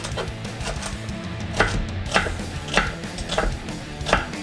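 A knife chops vegetables on a cutting board while Irish lamb stew is prepared, about eight sharp, evenly spaced cuts over a low kitchen hum, close and moderately loud.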